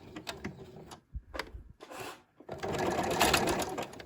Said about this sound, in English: I'm just going to sew that buttonhole.